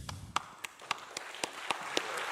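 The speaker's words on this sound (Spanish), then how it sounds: "Acho que os dois merecem uma salva de palmas." Audience applause, with sparse, distinct claps at a steady pace, moderately loud against a quiet room.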